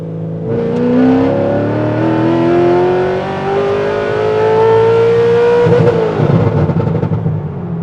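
A naturally aspirated, nitrous-equipped Corvette engine revving hard with a loud, raspy open exhaust, pitch climbing steadily before dropping off into rough crackling.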